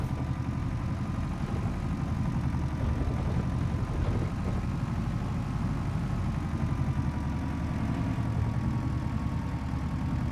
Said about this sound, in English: Judging on the sound of this engine, I don't think we're gonna be doing much of hill climbing.